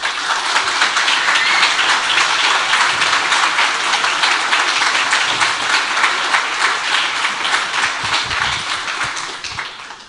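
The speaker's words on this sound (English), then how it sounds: "So a big round of applause to all the attendees and all the participants." A large conference audience at the DjangoCon 2022 closing session applauds steadily, a dense wash of many hands clapping at once, sustained and loud throughout before easing slightly at the end.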